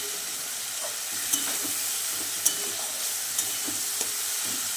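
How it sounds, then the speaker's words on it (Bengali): Tilapia curry with onion, onion greens, tomato and a little turmeric stirred in a frying pan: a steady bright sizzle of oil with a few sharp spatula taps at intervals, close and without talk. "অল্প একটু হলুদ গুঁড়ো দেওয়ার পরে ভালো করে নাড়বো"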